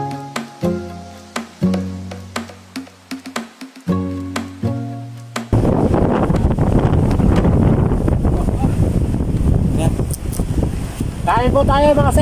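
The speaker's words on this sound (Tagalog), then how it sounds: "Habang malakas ang hangin." Strong wind buffets the microphone on a fishing boat at sea, a loud steady roar filling the second half after a stretch of plucked music, with a voice speaking over it near the end.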